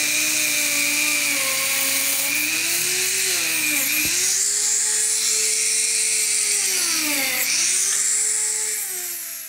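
Rotary sanding disc on a power tool grinding against wood while carving a jack-o'-lantern, a loud, continuous high whine whose pitch sags and recovers twice as the disc bites into the workpiece.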